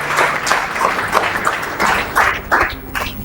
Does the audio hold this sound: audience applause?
yes